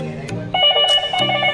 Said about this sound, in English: video intercom here, it rings on all the screens